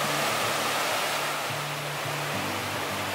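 Huckleberry Creek rushes past in a dense, steady wash of water, close and loud, with no other sound breaking through.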